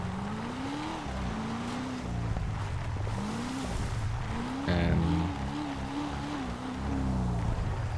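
Engine of a Chevrolet ZL1-like car in GTA 5 drones steadily, with its pitch repeatedly rising and falling as it revs and a brief louder surge midway.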